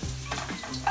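Sausage frying in a pan gives a steady close sizzle, with a brief scrape of a utensil moving it near the end.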